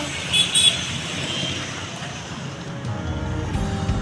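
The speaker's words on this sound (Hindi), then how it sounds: "आज बहुत ट्रैफिक हो चुका है." Busy road traffic hums continuously, with car engines rumbling and a few short horn toots near the start, all at moderate loudness in the background.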